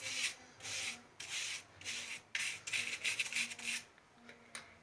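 Amway oven cleaning gel is spread thinly across an oven surface. A series of soft, close rubbing strokes comes in short bursts, then quickens into rapid scrubbing before fading. No one speaks.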